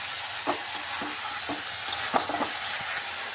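Pointed gourd filling with sugar is stirred and fried in a pan: a steady sizzle sits under repeated scraping stirs of the spoon, close and moderately loud, with no talk.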